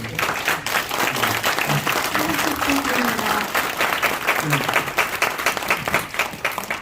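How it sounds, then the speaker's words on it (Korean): Audience applause at a Korean evening fundraiser for a comic-book evangelism ministry, steady and dense clapping throughout with voices murmuring and talking underneath. "우리 박수 한번 쏘시면 좋겠습니다"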